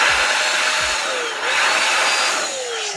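A two-speed electric air duster blower for cleaning PCBs runs with a loud, close, continuous whooshing whine, its motor pitch wavering and shifting slightly as the speed changes, with a couple of low thumps early on.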